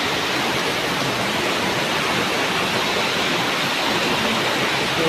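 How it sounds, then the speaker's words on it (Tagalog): Heavy typhoon rain from Typhoon Goring pours down in Mariveles, Bataan as a loud, unbroken, dense hiss with no pauses or voices. "Sa sobrang lakas ng ulan dito sa Marabeles, Bataan."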